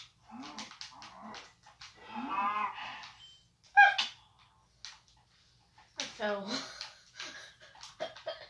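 Cows mooing in the Minecraft Skyblock video game: several low, drawn-out moos come in separate bursts, close and fairly loud, with brief pauses and other game sounds between them.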